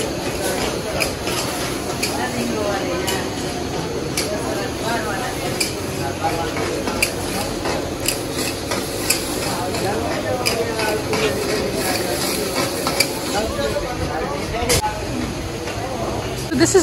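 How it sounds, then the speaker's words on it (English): Food being stirred and fried in a busy Pakistani desi restaurant kitchen in Rawalpindi, a steady close sizzle with utensil scrapes and clinks running throughout, under a constant background of voices and kitchen activity. "And over here they're also cooking some food."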